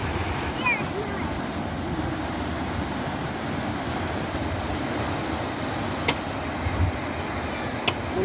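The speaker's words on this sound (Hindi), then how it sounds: "पुल के नीचे से पानी बहुत तेज़ी से जा रहा है, फ्लो बहुत ज़्यादा है" Canal water rushes fast under a bridge in a village. A steady, broad roar of flowing water continues throughout, with occasional soft knocks over the top.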